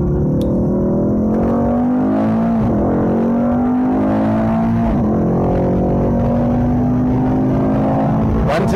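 A Mercedes E63 AMG engine revs and climbs in pitch as it accelerates out of a turn on a Formula 1 track, with a brief dip and renewed surge, loud and close.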